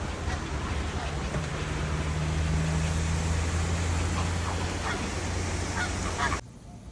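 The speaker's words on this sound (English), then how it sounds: "Just massive birds over the head." Large birds call overhead in Kuala Lumpur, with scattered honking cries rising over a steady wash of outdoor ambience and traffic-like rumble, fairly distant and continuous for several seconds before cutting off.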